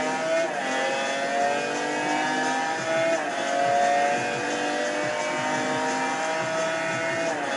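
Race car engine from a Le Mans circuit racing game on Dreamcast, Xbox or PlayStation, a loud steady whine rising and falling with gear changes, continuous and close with no talk.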